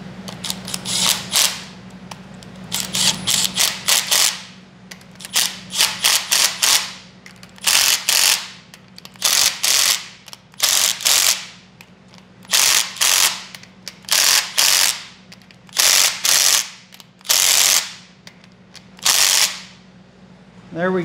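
A ratchet tightens 13 mm bolts on a Hellcat oil pump fitted to a 392 HEMI engine: repeated bursts of fast, loud, close clicking, separated by short pauses, over a faint steady background hum.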